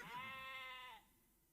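A sheep in the Age of Empires video game gives one clear, sustained bleat with a wavering, harmonic tone, lasting about a second before the sound cuts away to quiet.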